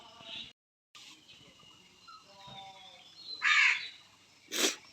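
Crows gather close while being fed biscuits in the morning, giving two loud, harsh caws near the end over a quieter backdrop of scattered bird calls.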